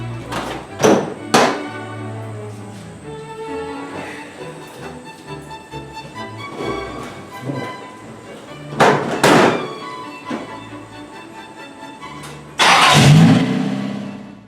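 A 1982 Datsun 210 engine cranks and catches with loud revving bursts, a few thumps, and a final roaring rev near the end.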